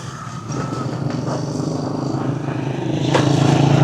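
A motorcycle ridden along a local road, its engine giving a continuous rumbling drone with some rattling and wind noise, growing louder near the end.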